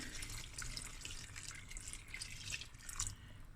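Water runs steadily with bright splashing and dripping, filling a cooking pot of lamb akhni close by, with no voices.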